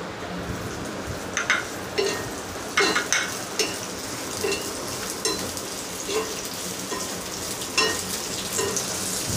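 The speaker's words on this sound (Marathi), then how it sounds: "छान अशी भाजून घ्यायची आहे खरपूस होईपर्यंत।" Coconut, peanut crumble, green chilli and tamarind for a traditional Konkan katla chutney being dry-roasted in a pan, giving a steady crackling sizzle with scattered sharper pops and stirring scrapes throughout.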